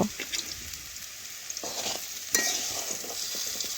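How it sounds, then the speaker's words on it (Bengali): Potatoes browning in hot oil in a pan, a continuous close sizzle with a few sharp spatula scrapes and stirs, the loudest near the middle, otherwise steady. "আমি এটা দুই থেকে তিন মিনিট মতো নাড়াচাড়া করে লাল লাল করে আলুগুলো ভেজে নিচ্ছি"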